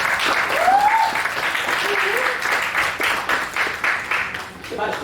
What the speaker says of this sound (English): I'll give her a hand clap as she comes.